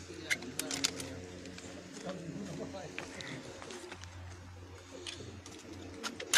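Pigeons kept on a rooftop coo softly in repeated low bursts, mixed with faint chirps and wing or foot noises, while someone talks over them.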